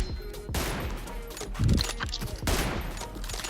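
Gunfire in the mobile shooter game PUBG Mobile: several sharp rapid bursts of shots in quick succession, loud and close, with faint background noise between them.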